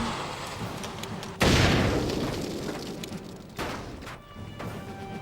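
A grenade from an M203 launcher explodes in the Full Spectrum Warrior video game, a loud sudden boom followed by a long rumbling decay, then a second, smaller blast a couple of seconds later, with no voices.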